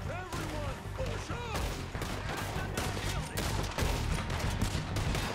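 Gunfight in Red Dead Redemption 2, a dense, continuous spray of overlapping gunshots and rapid fire that keeps going for several seconds at a steady loud level, with voices faintly underneath.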